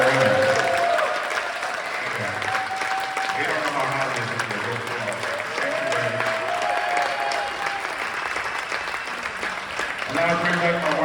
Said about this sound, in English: One more round of applause for the brilliant